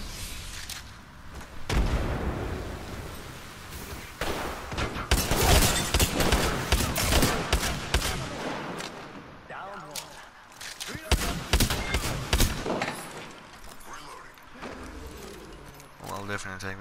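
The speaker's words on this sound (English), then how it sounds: "I love letting this gun rip on automatic." Automatic gunfire from Apex Legends crackles in dense rapid bursts among other shots and impacts, loud and close, with a player talking throughout.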